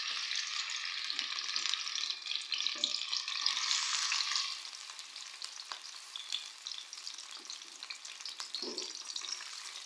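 Two medium onions hit hot oil and fry toward golden, a loud bright sizzle that eases into a quieter steady crackle after a few seconds, with occasional soft knocks of stirring.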